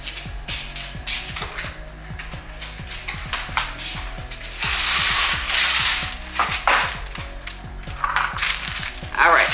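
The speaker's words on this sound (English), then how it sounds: "let me cut you a piece of parchment paper" Parchment paper pulled from a roll and cut for a no-bake kids' snack, a series of rapid clicks and rattles, then a loud crinkling, tearing rush near the middle before more clicking.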